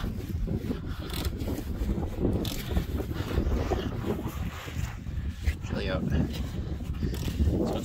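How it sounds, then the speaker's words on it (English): Gusty wind blowing under a 1990 Dodge Grand Caravan buffets a nearby microphone with low rumbling and rustling, steady throughout, with faint scattered clicks and handling noises. "it's like a wind tunnel under here right now, so it's really windy"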